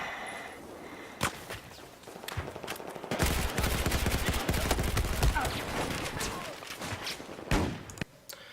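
Rapid gunfire from the H-23 weapon in the shooter video game Maximus Boomus, a dense stream of loud shots with sharp cracks at the start and end, continuing steadily for several seconds.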